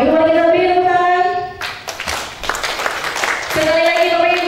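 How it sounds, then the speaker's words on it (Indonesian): An audience at an Indonesian primary school event in Nabire claps in a short burst, breaking into a held tonal music or singing sound that resumes after the clapping fades. "Oke, Bapak Ibu kita beri tepuk tangan."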